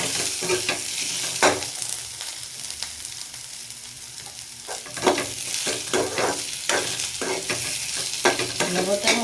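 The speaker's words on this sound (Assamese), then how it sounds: "এতিয়া মই আলু কেইপিচ দি দিছোঁ আলু কেইপিচ অকণমান ভাজি ল'ম" Potato pieces fry in a pan with ginger and garlic, a steady sizzle broken by repeated scraping stir strokes, close and fairly loud, with no talking.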